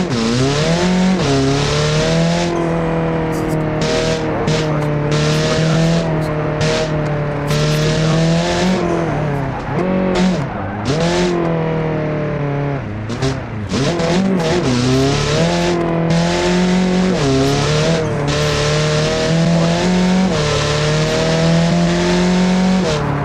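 A custom-built car driving hard around a track, its engine droning loudly and continuously with rising and falling revs through gear changes and corners, heard close throughout with no talking.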